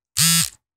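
A mobile phone alert goes off as a single loud, buzzy electronic tone lasting under half a second, close and alone in otherwise silent surroundings.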